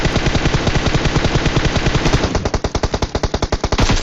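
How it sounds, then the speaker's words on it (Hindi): Automatic rifle fire in a shooter video game, loud and close, long rapid bursts of shots in a steady rhythm, the final second turning into distinct separate cracks. "यहाँ पे मैंने थोड़ा बहुत फायर किया था कि वो खिड़की से पीछे हट जाए"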